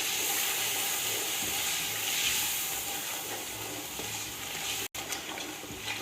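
Onions and masala for a Hyderabadi chicken dum biryani fry in a pan, giving a loud steady close hiss and sizzle with a brief dropout near the end, no talk.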